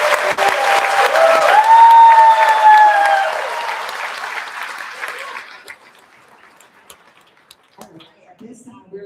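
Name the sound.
audience applause at school ceremony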